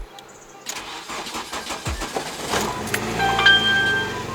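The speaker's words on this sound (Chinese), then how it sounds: "打着引擎一下啊" A Nissan Sentra B13 with the SR16VE NEO VVL engine cranks with a starter whir, catches and settles into a steady, close idle.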